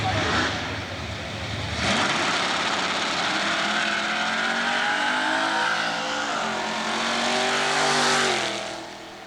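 A clean second-generation Chevrolet Camaro drag racing down the strip at Southeastern Dragway, with a loud engine roar that builds and holds through several gear changes. An announcer talks over it.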